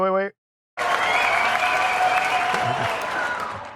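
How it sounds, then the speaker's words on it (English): A cheer button plays a canned sound effect of applause and cheering, a crowd clapping and whooping for about three seconds right after a brief electronic tone. "I just played the cheer button for the first time in like 4 months for you"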